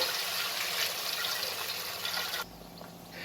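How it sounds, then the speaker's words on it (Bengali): Water from a rinsed mixer jar pours into spice masala in a pan, making a steady rushing splash for about two seconds before it cuts off sharply into quiet. "এবার আমি মিক্সির বাটিটা ধুয়ে জল দিয়ে দেবো।"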